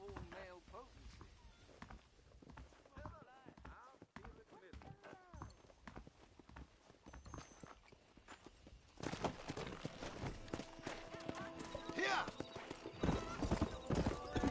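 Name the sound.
horse running in video game Red Dead Redemption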